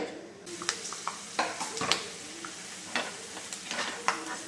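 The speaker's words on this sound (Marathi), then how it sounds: "असे फुटायला लागले असे शेंगदाणे" Peanuts roast in a pan and pop and crackle in scattered sharp bursts over a soft, low sizzle, heard close up.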